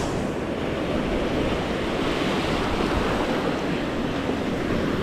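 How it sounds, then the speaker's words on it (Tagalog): Big ocean waves break on a beach near the breaker, making a loud, continuous roar of surf with wind buffeting the microphone and no voices. "Kita mong lalaki ng alon guys, lalo na malapit kami sa breaker."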